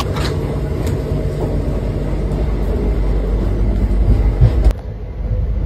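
The 13019 Bagh Express from Howrah to Kathgodam runs along the tracks with a loud, steady, broad rumble that stays even for several seconds before cutting off sharply near the end.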